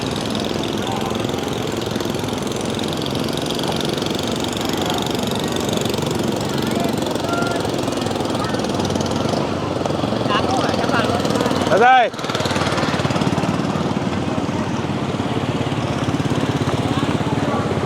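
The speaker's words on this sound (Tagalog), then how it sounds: "Yung mga bangka dito, motor na" Outboard-motor boats run through deep flood water covering streets in Pampanga, a steady, loud droning engine rumble filling the scene while people talk and call out over it.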